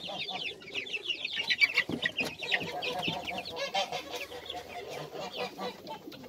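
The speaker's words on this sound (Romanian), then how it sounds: "nu știam de ce sunt gâștele agitate" Several geese honk excitedly and repeatedly, mixed with clucking fowl, a noisy, overlapping chorus at moderate distance.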